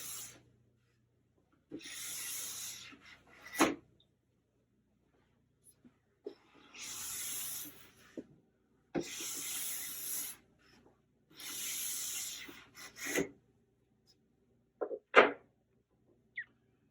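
Hot wax being worked down a ski with a brush: several separate bursts of soft, airy brushing strokes, each lasting about a second, separated by near silence and occasional light taps.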